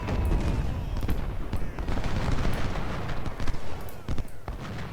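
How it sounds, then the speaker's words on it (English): Civil War cannons, 10- and 20-pounders in Ultimate General: Civil War, fire in a dense battle barrage of booming shots over continuous rumbling gunfire, loud and close throughout. "10 pounders and 20 pounders. Open up on Blake."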